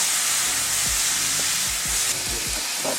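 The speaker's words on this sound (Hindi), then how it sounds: "तो मैंने 2 टमाटर की प्यूरी करके इसको डाला है और इसको हम करेंगे फ्राई।" Tomato puree for rajma fries loudly in a pan with a dense, constant sizzle and hiss, broken by several dull scraping knocks of a spoon stirring, with no voices.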